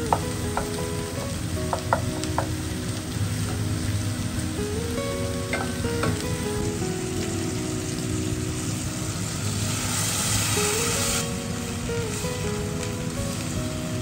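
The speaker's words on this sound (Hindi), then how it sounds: "तो जब पटेटो अच्छे से भून गया तब मैं यहाँ पर भिंडी को ऐड करूँगी एंड अच्छे से मिक्स करूँगी" Okra and potatoes fry in a cast iron pan with a loud, constant sizzle and crackle, and a utensil scrapes and stirs through the mix now and then.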